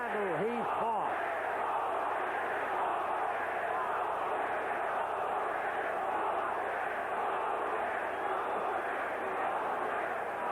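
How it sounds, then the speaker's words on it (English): A boxing arena crowd roars and cheers continuously after a heavyweight bout, a loud dense wall of voices with a few shouts rising near the start. "You've heard the crowd."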